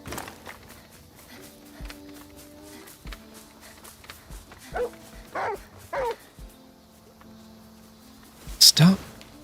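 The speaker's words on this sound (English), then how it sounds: "barking every 2 seconds, dog. Chill out." A dog barks in short yips and bow-wows, with whimpers between them, set over game music and footsteps. A loud pair of barks comes near the end.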